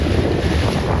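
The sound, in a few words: wind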